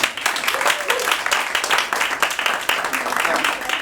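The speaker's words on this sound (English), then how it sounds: "Can I get a round of applause?" Audience applause at an improv comedy show at the Edinburgh Festival Fringe, brisk continuous clapping from a small room crowd with distinct, closely spaced claps.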